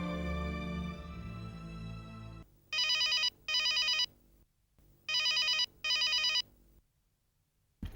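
A telephone bell rings in a Hindi TV serial scene: two paired bursts of ringing, loud and clear, follow a stretch of dramatic music and then stop.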